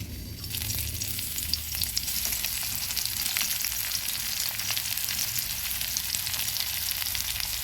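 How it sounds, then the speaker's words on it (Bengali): Chopped onions hiss and sizzle steadily in hot oil in a kadai after a brief drop into the pan, a continuous crackling fry heard up close. "এবার কড়াইতে আরেকটু তেল দিয়ে দিয়েছি তেলটাও গরম হয়ে গেছে এবার দিয়ে দেবো পেঁয়াজ কুচি"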